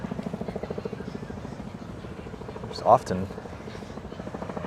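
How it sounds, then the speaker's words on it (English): A sightseeing helicopter flies overhead above Central Park in New York City, its steady rapid rotor thumping continuous and fairly close, running under a man's speech. "Sound you hear is a helicopter above us."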